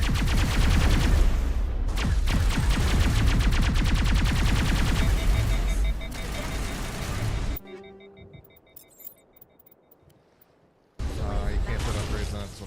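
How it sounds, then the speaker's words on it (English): Geth plasma rifle fire in the Mass Effect video game: dense, rapid bursts of loud sci-fi gunfire for several seconds, then a quieter lull with game tones before heavy firing resumes near the end. "Use the Geth plasma rifle."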